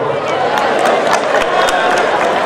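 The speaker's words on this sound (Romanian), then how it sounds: "Să aplaudăm totuși!" Applause from a crowd at a school year opening ceremony, a steady dense patter of clapping with some scattered cheering, fairly loud and continuous throughout.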